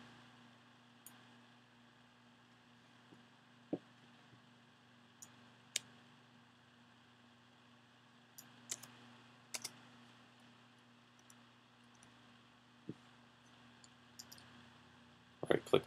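A computer mouse clicks sharply and sparsely as someone works in Photoshop, single crisp clicks scattered across a quiet room with a faint steady hum beneath.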